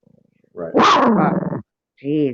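A pet dog gives a loud, drawn-out bark-growl lasting about a second, then a shorter yelp follows after a pause, close by, with brief talk around it.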